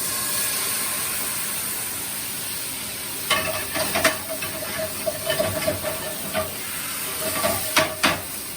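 Steak au poivre pan on the stove with alcohol boiling off, a steady broadband sizzle and hiss with sharper crackling bursts and spatters after the first few seconds, close and fairly loud, no talking.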